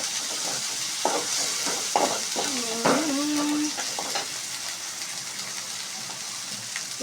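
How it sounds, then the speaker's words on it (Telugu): Ginger paste being stirred in a cooking pan gives scraping, clattering utensil strokes over a steady frying hiss, with a brief high whine partway through; no one speaks. "అల్లం పేస్ట్ వేసుకున్నాం కదా, ఇప్పుడైతే బాగా కలుపుకోవాలి"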